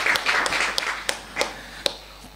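Sparse, scattered clapping from a live talk audience, a few hands at a time with several sharp individual claps standing out, fairly quiet and with no talk over it.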